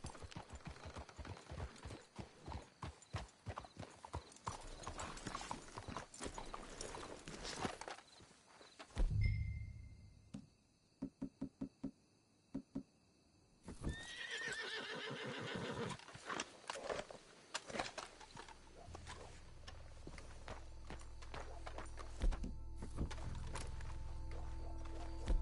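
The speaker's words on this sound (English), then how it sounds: "Let's hitch the horses up ahead." Horses in the Red Dead Redemption 2 video game whinny and snort while hooves clip-clop in steady walking rhythm, with a brief quieter pause midway before the hoofbeats and movement resume.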